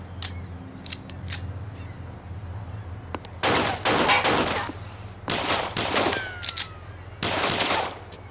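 Several bursts of rapid gunfire in a scene from the Turkish TV drama Valley of the Wolves: Ambush, loud and close, break out in clusters separated by short pauses, with a steady low hum underneath.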